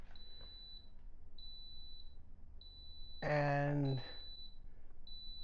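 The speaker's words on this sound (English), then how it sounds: "It's beeping like crazy." An Instant Pot pressure cooker beeps at the end of its cycle, a thin high tone repeating at a steady, quick pace, faint and near, briefly overlapped by a single spoken word.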